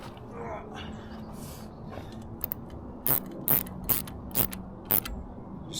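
A socket ratchet snugging the water pump bolts on a 25 hp Yamaha outboard, with several short, sharp clicking bursts in the second half over a quiet workshop background.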